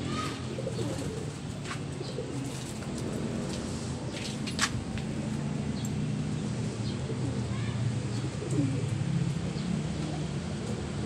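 A pigeon coos close by in low, repeated rolling calls over a steady background hiss, with a few faint chirps mixed in.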